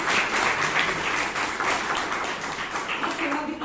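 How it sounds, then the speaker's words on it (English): Members at a Toastmasters club meeting in Bangalore applaud in a close, lively burst of clapping with distinct individual claps, with some voices mixed in underneath. "Can we have a big round of applause for this?"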